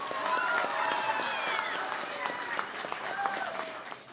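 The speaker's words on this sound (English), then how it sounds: "I want also everybody to give a round of applause to the principal and the teachers of the Hellenic American Academy" A crowd applauds steadily at a Greek flag raising ceremony in the City of Lowell. Dense outdoor clapping holds for the full stretch, with a faint murmur of voices underneath.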